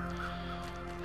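Crows cawing in the snowy wilderness of the survival game The Long Dark, steady bird calls over a continuous low ambient drone, moderately loud with no talking.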